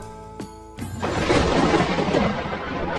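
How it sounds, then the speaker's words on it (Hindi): Thunder from an unseasonal storm: a sharp crack followed by a long, loud rolling rumble that fills the rest of the moment. "स्वामी, ये बिना मौसम की गरजती हुई बारिश हमें क्या संकेत देती है?"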